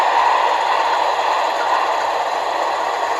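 A Broadway Limited Union Pacific Big Boy 4014 model locomotive in HO scale runs with a steady, loud mechanical whir and hiss, the sound continuous and even throughout.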